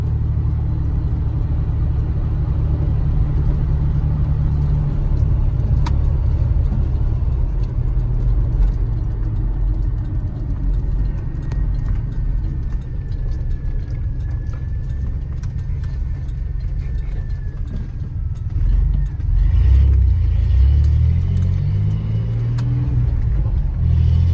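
A Chevrolet S10 4x4 pickup cruises along with a freshly replaced radiator, its engine and road noise a steady close rumble inside the cab, swelling as it accelerates near the end.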